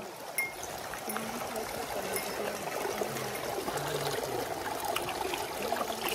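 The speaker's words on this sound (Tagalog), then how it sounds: "Ito na yung creek." A mountain creek on Mt. Daibosatsu, Japan, trickles and burbles steadily at a moderate distance, a soft continuous flow with no voices.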